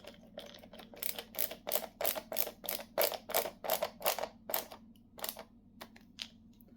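Rapid, quiet clicking and ratcheting ticks come in a steady run, close by, as a screw is driven tight on the guard of a McGregor cordless grass trimmer.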